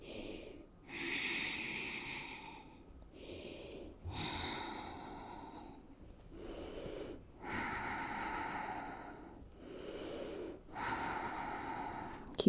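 Slow, deep breathing during a yoga core drill, with about six rhythmic inhale-exhale cycles, airy and close, each breath separated by brief pauses.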